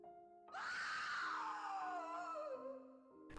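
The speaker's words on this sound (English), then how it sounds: "A scream tore through the air, and Harry spun around." A single long scream rises sharply and then slowly falls, piercing and sustained for nearly three seconds over a faint, steady background tone, with no speech.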